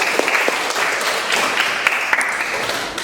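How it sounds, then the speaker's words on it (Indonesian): Classmates applaud in a classroom, a steady wash of clapping hands that carries evenly from start to finish without any speech over it. "Terima kasih, beri aplaus untuk Widianya."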